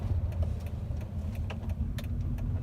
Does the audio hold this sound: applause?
no